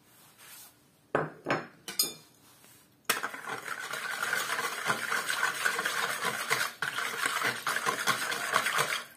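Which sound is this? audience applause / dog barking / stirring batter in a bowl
stirring batter in a bowl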